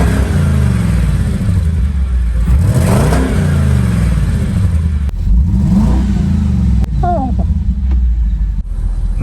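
An Audi S5 engine revs up and down close by, a loud throaty roar with rising and falling pitch sweeps over a deep rumble, a few sharper throttle blips toward the end.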